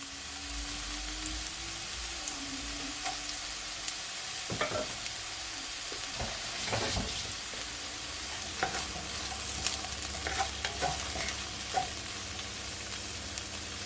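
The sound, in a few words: garlic and fresh ginger sautéing in a pan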